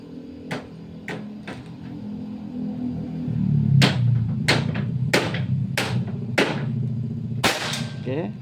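Sharp shots from a Predator Pajero Gen 6 air gun during an accuracy test, several crisp cracks at irregular spacing, some with quick double snaps, over a low steady hum and faint background voices.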